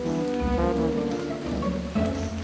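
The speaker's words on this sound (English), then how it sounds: "It started raining." Rain falling in a Thomas the Tank Engine story, a moderate steady patter blended with a tonal musical bed, continuous and fairly close throughout.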